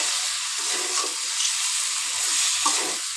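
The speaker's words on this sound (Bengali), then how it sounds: "এই যে মাছের বাটাগুলো ভেজে নিচ্ছি" Fish heads frying in a pan give off a steady, close sizzle and crackle that runs the whole time, with faint stirring underneath and no voices.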